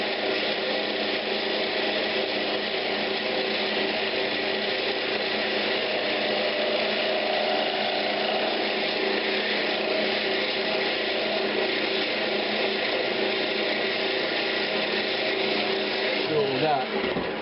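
A lathe turning an old pine cabinet knob, with a continuous loud whirring drone and a faint cutting hiss that holds steady throughout and ends with a brief scrape.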